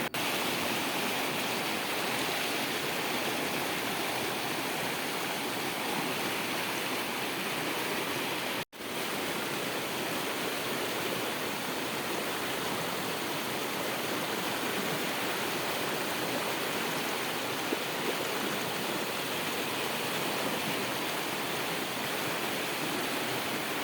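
Water flows steadily at a remote black water pool in a Sri Lankan village, a continuous broadband rush like a stream or small fall, with no voices.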